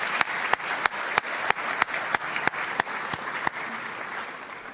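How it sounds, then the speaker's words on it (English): Audience applause at a school scholarship evening: a steady wash of many hands clapping throughout, with sharper individual claps standing out near the front, moderately loud and without talk. "Round of applause for our community of supporters here,"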